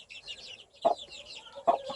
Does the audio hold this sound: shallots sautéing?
no